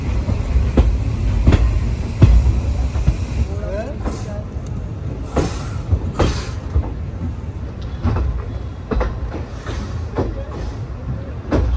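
Howrah Kalka passenger train running on rails toward Old Delhi station, a heavy rumbling carriage drone with irregular clacks and knocks from the wheels, heard from inside a crowded coach with people talking nearby.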